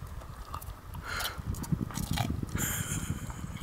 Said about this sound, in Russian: Ну не чавкай.